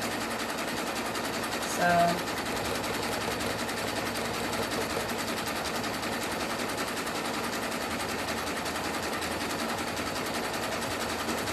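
A sewing machine stitches a clothesline rope coaster with a steady, fast mechanical whir running continuously up close, under brief bits of talk.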